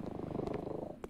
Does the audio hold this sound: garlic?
no